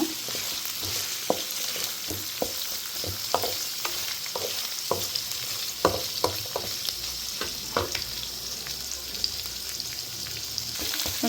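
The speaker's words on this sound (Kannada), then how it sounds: "ಇದು ಸ್ವಲ್ಪ ಬ್ರೌನ್ ಬರೋವರೆಗೂ ಫ್ರೈ ಮಾಡ್ತಾ ಇರಬೇಕು ಈ ಥರ" Masala frying in a pan for a rustic goat head and trotters sambar, with steady sizzle and repeated scraping strokes of a spoon stirring it; close and continuous, no voices.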